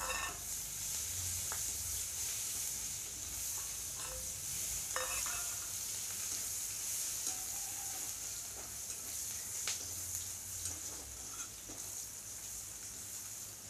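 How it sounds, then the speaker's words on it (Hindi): Chopped onion frying in oil with a bay leaf in a pan for an Odia-style potato and fish curry, a steady close sizzle with occasional stirring scrapes running throughout. "प्याज फ्राई हो चुका है"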